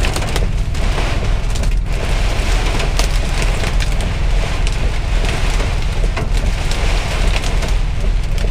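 Steady, heavy rain pouring down on a parking lot, a dense continuous patter that stays loud throughout with no voices.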